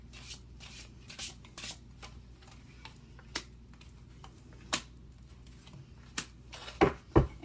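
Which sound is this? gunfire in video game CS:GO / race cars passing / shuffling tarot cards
shuffling tarot cards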